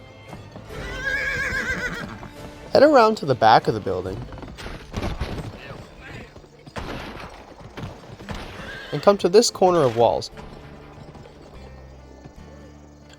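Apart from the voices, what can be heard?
horse neighing and hooves in the video game GUN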